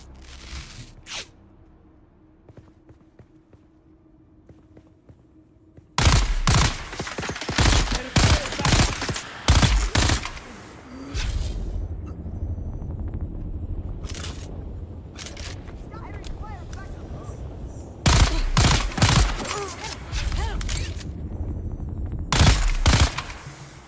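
Rifle gunfire in the video game Dune Awakening: loud bursts of rapid shots in two main clusters, separated by quieter stretches of gear and movement noise, with talking in between.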